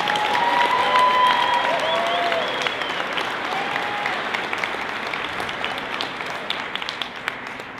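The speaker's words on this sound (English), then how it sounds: "Let's give our community a big round of applause." An audience at a Fernie Secondary Class of 2022 graduation ceremony gives a loud, sustained round of applause. Dense clapping fills the whole stretch, easing off slightly toward the end, with faint cheers mixed in.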